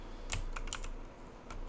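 Rapid clatter of a computer keyboard being typed on during a gaming chat session, a few sharp key bursts close to the mic over steady background noise, with no talking.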